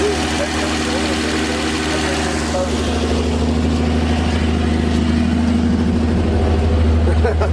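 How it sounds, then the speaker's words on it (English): A 1954 Chevrolet 210 two-door coupe engine idles steadily and loudly up close, a constant low rumble with vibration and no break. "Motor runs good."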